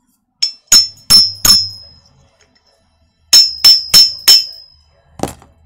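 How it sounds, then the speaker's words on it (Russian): A small hammer taps the magnet flywheel off a Stihl MS-180 chainsaw during disassembly. The sharp metallic strikes are close and loud, coming in two quick series of four hits each, then one final tap, with silence between. "просто молоточком аккуратненько вот так вот"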